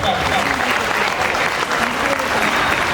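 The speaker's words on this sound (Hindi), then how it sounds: "जोरदार तालियां बच्चों का एक बार" Audience clapping at an education talk by a Banaras Hindu University professor, a loud, dense, continuous round of applause from a crowd of children, with faint voices mixed in.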